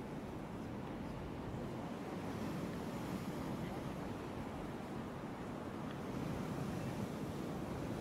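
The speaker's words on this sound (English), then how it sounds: "I'm just going to take you down to see the Irish Sea." Waves of the Irish Sea wash onto the shore at Blackpool, a steady broad surf roar mixed with heavy wind buffeting the microphone throughout.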